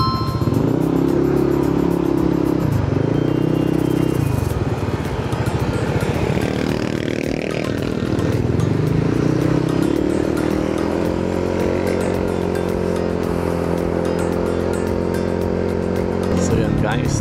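A Honda ADV 160 scooter ridden at normal pace on a quiet Sunday road after a carbon cleaner treatment: a close, continuous engine drone whose pitch rises and falls with throttle changes and gear-free acceleration.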